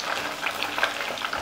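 Pieces of young free-range chicken fry in hot oil, giving a steady soft crackle and sizzle with faint popping bubbles, close by and without any talking.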